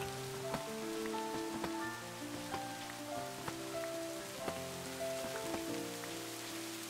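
Steady rain patters in the Minecraft video game, a soft continuous hiss with scattered droplet ticks, accompanied throughout by gentle melodic background music notes.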